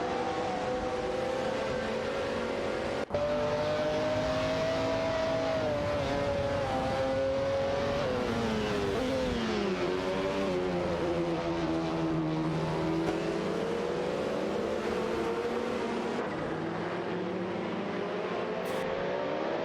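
Race cars in an AI racing video game, engines droning and shifting pitch steadily as the cars draft off each other, a continuous dense motor whine with one sharp click near the start.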